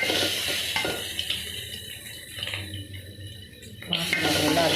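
Ginger and garlic fry in a pan, a close sizzle mixed with stirring scrapes and clinks of a utensil against the pan, rising louder at the end.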